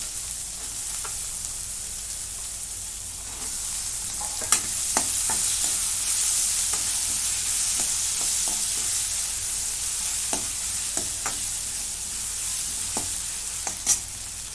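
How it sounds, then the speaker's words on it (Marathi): Soaked chana dal goes into a pan of fried chillies and sizzles steadily, with scattered scraping and stirring clicks from a utensil over the frying hiss, close and without talk. "आता मिरची परतून झाली आणि ही डाळ मी हरभऱ्याची भिजायला घातली होती ती टाकून घेते"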